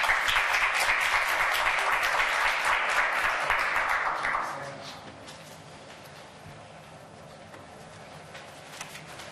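An audience applauds to welcome Professor Legarre as a guest speaker at a Cornell Law School lecture, with loud, dense clapping for about four seconds that then fades quickly into quiet room tone.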